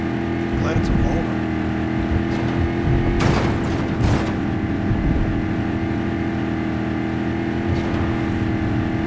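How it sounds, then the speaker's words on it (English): A boat motor in The Godfather II video game runs loud and close, a steady rumbling drone with a few brief surges and bursts over the whole stretch. "This motor's got a funny sound."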